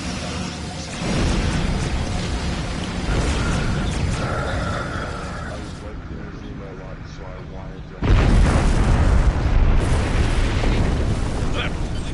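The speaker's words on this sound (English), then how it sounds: "That was a big kaboom." A big starship explosion in Star Trek Online, with a heavy rumbling blast that swells, eases off, then hits again with a second loud boom-like surge; a voice talks over parts of it.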